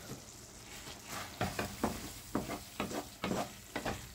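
A spoon stirs thick chilli con carne in a pot after twenty minutes of simmering, making a quiet run of wet scraping strokes in uneven bursts over a low bubbling background, with no one speaking.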